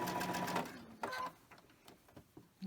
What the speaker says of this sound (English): So let's just go ahead and chain stitch these.